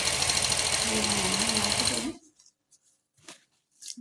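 A sewing machine stitching fabric for a neck design runs in a loud, fast, steady whir for about two seconds, then stops, leaving near silence with a few faint rustles and clicks.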